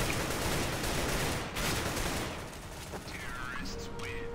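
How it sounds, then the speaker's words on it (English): Sustained gunfire in Counter-Strike: Global Offensive: a dense, rapid rattle of shots fills the first half, then it thins out into scattered sounds and mechanical clicks, with faint talking toward the end. "I almost lost my AK because this fucking idiot purple kept shooting at me"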